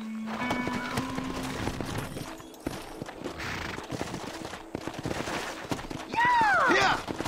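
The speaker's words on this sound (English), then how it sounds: "Horses are over here!" Hooves clip-clop in a steady rhythm among gunfire bursts and ambient game noise in Red Dead Redemption, with a horse whinnying near the end.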